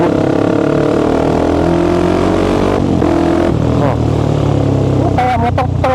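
A Kawasaki Ninja RR Mono single-cylinder motorcycle runs loud and close, its engine holding a steady note before a few sharp revs near the end, with someone talking over the noise.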